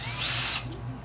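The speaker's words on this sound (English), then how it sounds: "It's just some sort of rod that fits in a drill" Electric drill spinning a sandpaper-wrapped rod inside a bore on a Bolton Tools ZX32GP bench top mill, a close high whine that runs briefly then cuts off and winds down.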